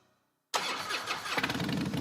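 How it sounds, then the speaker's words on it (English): A popular American motorcycle engine cranks and catches after half a second of silence, then runs loud and rough with a throaty idle and a brief rev, close up and alone. "This is the sound of a popular American motorcycle."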